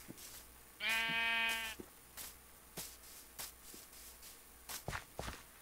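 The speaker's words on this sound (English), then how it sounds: "Sheep." A single wavering Minecraft sheep bleat rings out clearly for about a second, followed by soft scattered footsteps and shuffling.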